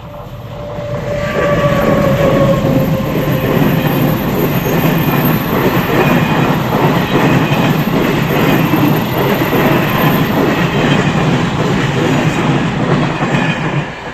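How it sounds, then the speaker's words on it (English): A train rumbles past close by near a tunnel in Morocco for most of the clip, a loud steady roar of wheels and rails with faint metallic squeal, fading slightly at the end. "the train then passed by"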